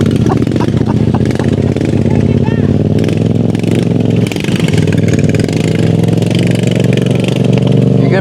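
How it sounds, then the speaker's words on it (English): A motorcycle engine runs loud and close, rumbling and revving continuously throughout, with voices talking underneath. "This guy's coming with his motorcycle."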